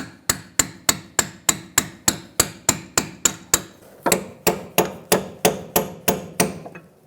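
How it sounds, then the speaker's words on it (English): A hammer strikes a cold chisel to bend back the washer tabs on an inner tie rod of a 2002-2006 Toyota Camry, about twenty sharp metallic blows in a steady fast rhythm, loud and close with ringing decay. "So use a cold chisel and a hammer and just push out the 2 tabs."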